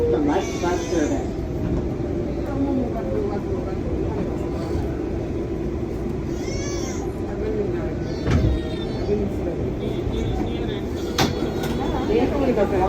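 A New York City 4 express subway train to the Bronx rumbles steadily along the tracks with continuous low roar, occasional squeals and clanks, and faint voices in the background.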